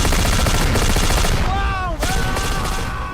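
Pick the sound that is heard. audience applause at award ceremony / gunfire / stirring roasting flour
gunfire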